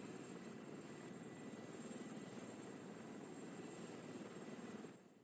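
A video game aircraft engine drones steadily through a flight in DayZ, a constant mid-level hum that holds evenly and then fades slightly at the very end, with no voices.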